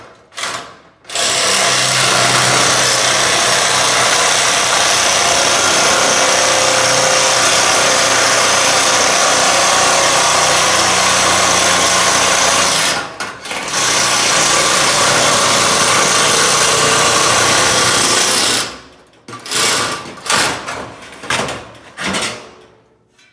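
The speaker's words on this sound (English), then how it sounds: "It's a Malco metal trimmer." A Malco metal trimmer attachment driven by a drill whines loudly and steadily for long stretches, broken by brief pauses and ending in a series of short bursts.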